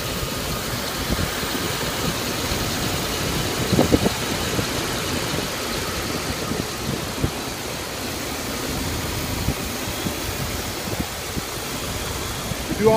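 A 1996 Dodge Ram's 5.9 liter 360 gasoline V8 idles steadily for a running test at an auto wrecking yard, a close, even rumble with a few small knocks and clicks, and no talk over it.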